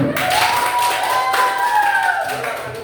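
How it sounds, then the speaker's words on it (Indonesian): Applause from a group of participants at a classroom workshop, a dense steady clapping wash lasting about three seconds with a thin ringing tone running over it. "Tepuk tangan dulu."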